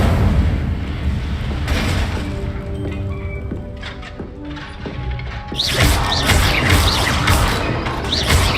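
Casting the Incendio fire spell in Hogwarts Legacy, with a loud flaring burst and a whooshing roar that swells midway and rises over rumbling, clanking game effects.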